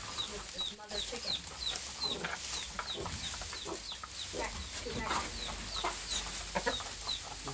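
A mother hen clucks among other backyard chickens, soft repeated clucks and chirps over a constant hiss of outdoor noise, with faint background voices.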